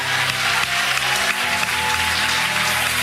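A church congregation claps and cheers in a loud, continuous wash of applause, with a steady musical hum underneath and no pauses across the whole span.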